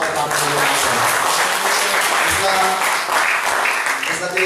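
Congregation clapping during an Ilocano sermon, a dense steady patter of many hands applauding, mixed with voices talking and calling out underneath, fairly loud and continuous.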